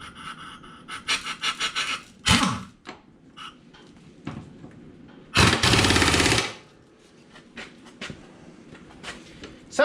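An impact gun tightens the mower blade bolts on a John Deere 455 in two loud, close bursts of rapid hammering, about a second each, separated by quieter clanks and handling noises.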